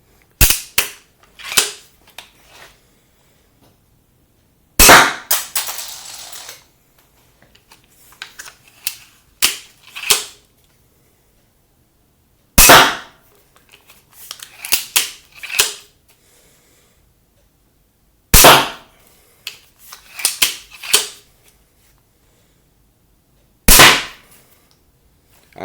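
Repeated sharp snaps of a Steambow Alligator 8-shot repeating crossbow loosing alloy bolts, loud and near, with clusters of mechanical clacks from cocking and magazine cycling in between.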